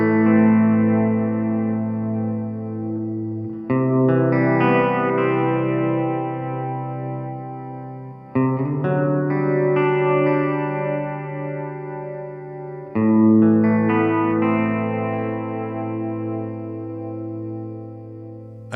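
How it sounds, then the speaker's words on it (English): Electric guitar rings out through a True Spring Reverb pedal set to Hall S, a spring reverb blended with 80s hall reverb. Three sustained chords swell and trail off in lush, washing decay, alone and upfront. "The Hall S reverb right here is a fun combination of spring reverb combined with 80s Hall reverb"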